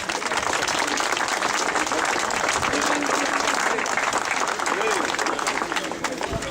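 A crowd applauds at the start of the Tour de l'Aude cycling race, with dense, steady clapping that holds loudly throughout and a voice talking over it.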